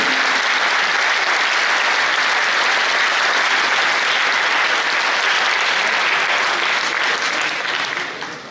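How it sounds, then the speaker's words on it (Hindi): Loud, dense audience applause at a Hindi public lecture holds steady for several seconds and then fades slightly at the end. "उनके लिए आपकी तालियां, आपकी गर्तन ध्वनि बजे"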